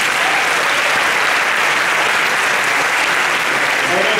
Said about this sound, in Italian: vi mandiamo un grande applauso